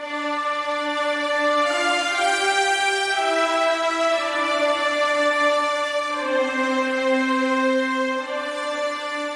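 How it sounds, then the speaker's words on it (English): A sustained trumpet line layered over bowed strings plays slow, held notes that shift pitch a few times, steady and full throughout. "I decided to add a trumpet. Together they sound like this."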